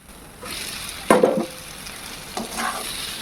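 Soybean chunks, potato and squash stirred and frying in a pan with Kashmiri chili powder: steady sizzle with a few louder scraping stirs of the spoon, close and without talk.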